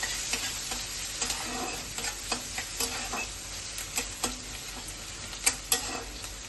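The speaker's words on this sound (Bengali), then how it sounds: "পেঁয়াজ কুচিটা একটু ভাজা ভাজা হয়ে যাক" Chopped onion fries in hot oil with two dried red chillies, a steady broadband sizzle with scattered spoon scrapes and stirring clicks, close and fairly loud, no voices.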